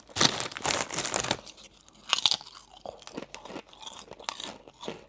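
A bag of Kettle honey dijon mustard crisps is torn open and rummaged with loud crinkling foil bursts, followed by close, sharp crunching and chewing of the crisps in uneven bites, without talk.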